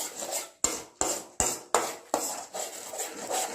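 A pan of egg masala Maggi noodles being stirred and fried, with a rasping scrape of the spatula across the metal roughly every half second, each stroke ending in a sharp knock, close and alone.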